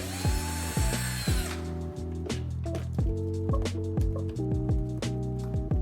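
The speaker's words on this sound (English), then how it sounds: "Remove the screw here." A power screwdriver whirs in short repeated bursts while backing a screw out of trim on a Tesla, the motor pitch rising and stopping in a stuttering rhythm close to the listener.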